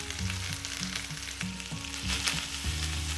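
Turkey meatballs fry in a pan with a steady, close sizzle and crackle, with light stirring sounds and a low musical background underneath.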